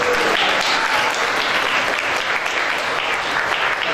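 An audience at a school assembly claps steadily and loudly, a dense, continuous wash of applause that fills the room without pause, with no one speaking over it.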